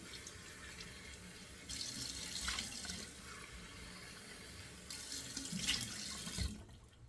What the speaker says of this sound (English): I'm going to do 2 splashes of cold water on the face to close those pores.